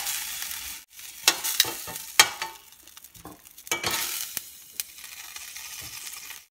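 Tomato goes into a hot frying pan, setting off a bright, hissing sizzle punctuated by sharp scraping stirs and clicks, close and clear with no voices.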